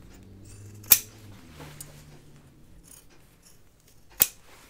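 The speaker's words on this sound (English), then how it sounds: "And now I'm going to cut these corners off." Scissors snip the corners off a sewn fabric dopp kit bag, two sharp isolated cuts a few seconds apart over a quiet room, the second crisp and close.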